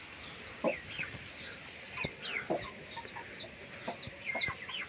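Several hens cluck and murmur softly close by in a hot farmyard, with repeated short calls and bursts of clucking scattered over a faint background.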